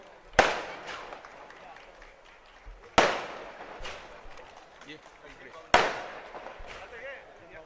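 Three loud firecracker cracks go off a few seconds apart, close by, at a political welcome event, while people talk in the background between the blasts.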